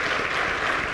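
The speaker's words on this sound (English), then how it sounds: "Let's give a round of applause for Act a little bit." Audience applause at a start-up competition grand finale, a steady dense wash of clapping filling the whole second without pause.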